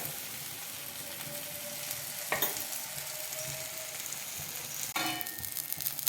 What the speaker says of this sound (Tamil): இப்போ இந்த தட்டி வச்ச ரொட்டியை நாம் எடுத்து அப்படியே கல்லில் சேர்த்துடலாம் பாருங்கள் இது நல்லாவே ஒன் சைடு வேகட்டும் அதுக்கு நான் கொஞ்சமாக ஆயில் சேர்த்துக்கிறேன்